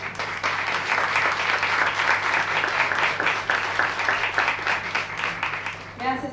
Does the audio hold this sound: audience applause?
yes